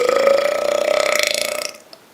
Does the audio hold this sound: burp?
yes